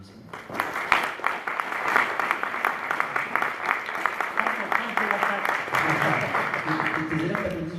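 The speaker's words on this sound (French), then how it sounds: "Eu égard au travail effectué, je pense que ça mérite déjà quelques applaudissements." Audience applause follows a talk on fablabs in France, a sustained loud burst of many hands clapping that swells, holds for several seconds and then tapers as voices begin to talk over it.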